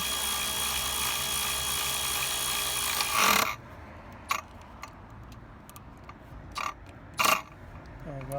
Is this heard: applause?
no